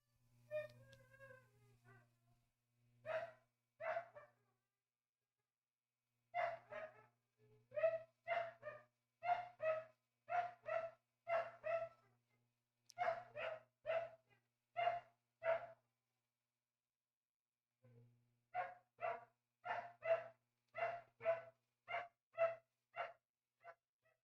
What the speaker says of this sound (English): Our dog is noisy.